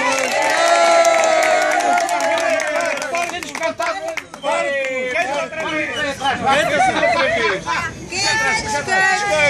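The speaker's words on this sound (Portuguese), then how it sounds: "Uma salva de palmas." Party guests at a birthday celebration for a boy clap and cheer amid lively crowd chatter, with loud overlapping voices and clapping mixed throughout.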